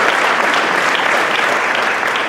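An audience at an evening business awards event bursts into loud, sustained applause, a dense, even wash of clapping close and alone.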